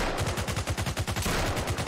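Rapid automatic gunfire from a video game fired at a demon, a steady stream of close, loud shots at an even rhythm for about two seconds with no talk over it.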